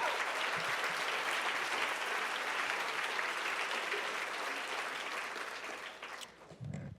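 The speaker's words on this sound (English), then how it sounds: "So please give a brief round of applause to Andrew Lloyd Jones" Sustained applause from an audience at the 2014 PEN Literary Awards ceremony, a dense, steady wash of clapping that holds evenly for several seconds before thinning out near the end.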